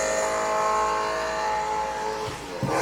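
Car engine at a street takeover car meet revving hard with a sustained high-pitched whining roar, loud and close, with a brief thump and tire noise near the end.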